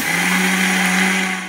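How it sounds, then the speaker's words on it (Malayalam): A kitchen mixer grinder whirs steadily and loudly as it grinds cooled, roasted sesame seeds in its jar, a continuous high motor drone that holds even throughout with no one talking. "ഇനി നമുക്ക് ഇത് ഒരു മിക്സിയുടെ ജാറിലേക്ക് ഇട്ട് കൊടുത്ത് ഒന്ന് പൊടിച്ചെടുക്കാം."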